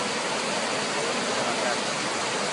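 Water pours steadily into the recessed pool of the memorial in New York, a continuous loud rushing wash with no pauses or talking.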